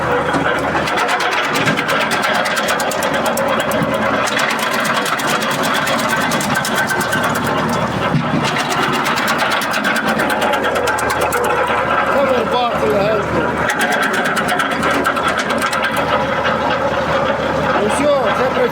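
An ARPAL 120TR wood chipper runs continuously while a garden is being cleared, a loud, steady engine drone with rattling, and people talking over it throughout.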